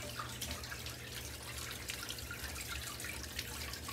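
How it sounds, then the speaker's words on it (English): Water from an Alpine tabletop waterfall fountain trickles and drips steadily down its tiers, a soft continuous splashing close by with no talking. "you'll notice the water is coming down from the top"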